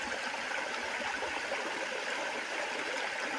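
Continuous running water streams and splashes as a fruit is washed, a steady close rushing wash without pauses or voices.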